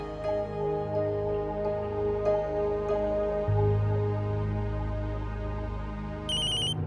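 A telephone ringtone plays steadily as a repeating melodic tone, clear and fairly loud for about seven seconds with no talking over it, set in a domestic scene of a Hindi family TV drama.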